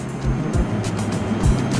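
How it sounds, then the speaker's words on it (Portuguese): A self-driving car rolls along a city street, a steady road and engine rumble with small thumps, close and fairly loud, with no voices. "Ninguém está dirigindo, o carro vai sozinho."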